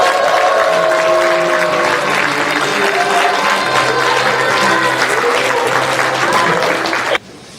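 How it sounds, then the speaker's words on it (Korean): Audience applause with scattered cheers fills the hall at the opening of the 2024 Iksan citizens' creative school project presentation contest, a steady dense clapping that continues loudly for about seven seconds before cutting off. "여러분의 힘찬 박수와"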